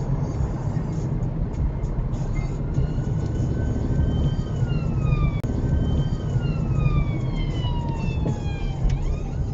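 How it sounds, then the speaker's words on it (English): An emergency vehicle siren wails with repeated sweeping, falling tones as it passes at a roundabout, heard from inside a driving car over steady road and engine rumble. "We have just a random blue light moment here at the STRETTON Baskerville roundabout"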